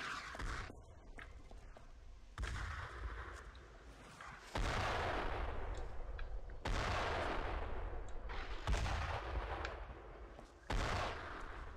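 Machine gun fire in the World War II video game Brothers in Arms: Road to Hill 30 on original Xbox, loud sustained bursts with brief breaks between them, rolling and continuous across the stretch.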